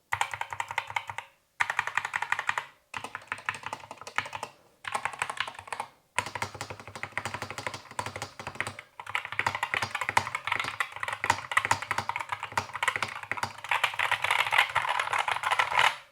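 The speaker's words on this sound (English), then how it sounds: "Very impressed with the stabilizers just from the initial sound test of this keyboard." Steady typing on a Tezarre TK61 mechanical keyboard with optical switches, dense, fast key clacks, a few brief pauses early on, then continuous rapid keystrokes, close and clear.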